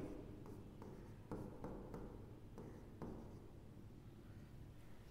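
Quiet pen strokes scratch and tap on paper as a math solution is written out by hand, a series of short irregular scribbles close by.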